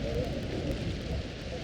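Steady rain falling in Minecraft with the Tekkit 2 modpack, a dense even hiss with a low rumble, continuing under a voice.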